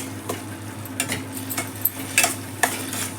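A spoon stirs garam masala and coriander powder through a pan for palak egg curry, giving a series of short, close scraping strokes at an uneven pace over a low, steady sizzle.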